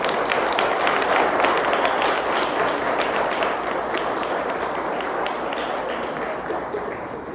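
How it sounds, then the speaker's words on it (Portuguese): A church congregation at a Presbyterian service claps together in a dense, sustained round of applause lasting several seconds, loud and even without a break. "Uma salva de palmas a Deus."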